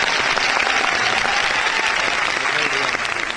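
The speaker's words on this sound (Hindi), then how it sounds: "मैं चाहता हूँ सिकंदर सर के लिए जोरदार ताली दोस्तों" Loud, sustained audience applause for Sikandar sir in Babu Sabhagar Hall, Patna, with dense clapping throughout and faint crowd murmur mixed in.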